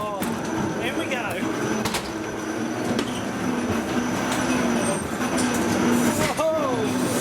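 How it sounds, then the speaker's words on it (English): Ghost train ride at Barry Island Pleasure Park, a steady rumbling rail car with wheels squealing and clattering along the track, loud and close, with faint voices in the background. "Here we go, into the ghost train."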